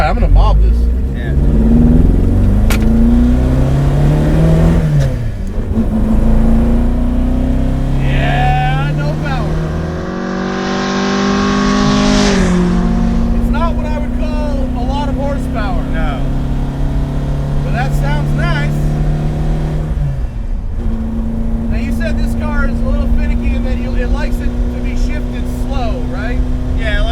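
A modified 1966 Alfa Romeo Giulia GT accelerating hard on an open road, its engine climbing through rising revs with a brief shift break partway, loud and close throughout, with a person speaking over the engine.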